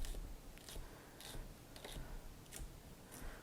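A sharp kitchen knife slices leeks into small sections on a cutting board, giving a steady series of crisp, close chops that repeat roughly every half second with nothing else heard.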